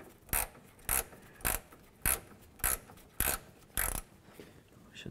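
Seven evenly spaced ratcheting bursts from a 19 mm ratchet loosening the radiator petcock on a 2007-14 Ford Edge, each a short, close, clicking rasp with a steady rhythm and quiet gaps between.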